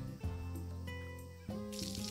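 A watering can sprays water over crops in the farming video game Story of Seasons: A Wonderful Life, a brief hissing gush rising over looping background music.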